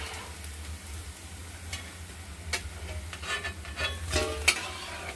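Vegetable manchurian balls fry in hot oil with a soft, steady sizzle, punctuated by sharper crackles and the scrape of stirring, growing busier toward the end.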